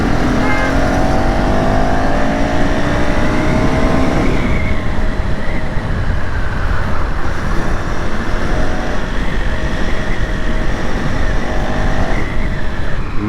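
A motorcycle on a race track with the throttle opened, giving a loud continuous engine drone that climbs in pitch, drops back once around four seconds, then builds again under steady wind rush, with no talking.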